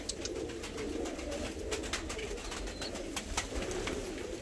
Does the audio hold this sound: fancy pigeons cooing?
yes